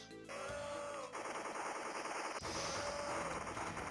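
Boss tank in the Gundhara arcade shooter firing streams of aimed bullets, heard as dense, loud, continuous rapid gunfire bursts over layered game music and effects throughout.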